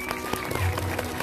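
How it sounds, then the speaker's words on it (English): A crowd of parents and students applauds at an elementary school fifth-grade continuation ceremony, a brief, fairly faint patter of scattered claps. "So can we get another round of applause?"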